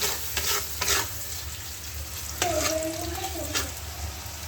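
Capsicum stir-frying in a hot pan for street-style Chinese fried rice: a bright steady sizzle punctuated by a few sharp scrapes and clanks of a spatula against the pan, close up.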